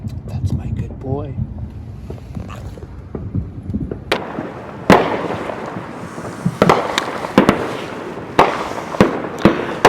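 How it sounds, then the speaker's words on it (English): Fireworks on the Fourth of July exploding nearby in a neighborhood, a series of loud sharp bangs and pops at irregular intervals over wind noise, with a person talking early on. "You hear all these fireworks in the background."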